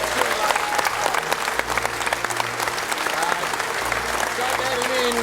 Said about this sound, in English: Round of applause for the great Stewie Lowe.